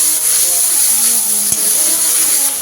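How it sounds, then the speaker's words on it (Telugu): Spices with ginger garlic paste sautéing in a pan for chicken fry, a steady close sizzle with faint stirring, one brief knock partway through. "అల్లం వెల్లుల్లి పేస్ట్ కూడా వేసానండి. ఇదంతా ఒకసారి చక్కగా మగ్గేలాగా మగ్గిస్తున్నాను."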